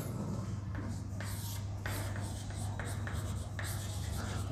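Steady writing during a chemistry lecture, with continuous scratchy strokes that start and stop in short bursts over a constant low hum and no talk.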